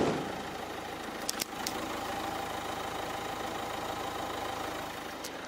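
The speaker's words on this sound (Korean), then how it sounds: "일반적인 경유 엔진보다는 훨씬 정숙한 엔진 소음 기대하셔도 좋은 차량입니다" A Renault Samsung QM3 diesel engine idling with a low, even hum and faint steady rumble, with a couple of brief clicks early on and no talking.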